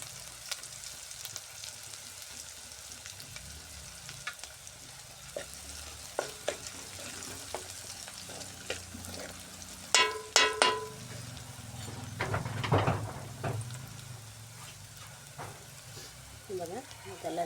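Chopped garlic frying in a pan of hot oil with cumin seeds gives a steady, close sizzle, broken by stirring scrapes and a louder crackling burst partway through.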